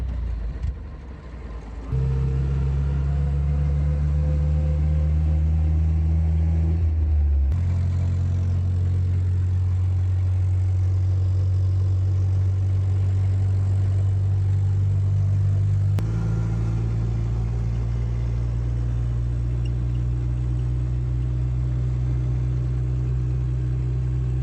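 A 1917 Ford Model T ambulance with a 2.9-liter inline-four of about 20 horsepower runs at a steady, close, loud idle, a continuous low rumble whose pitch steps up slightly a few times.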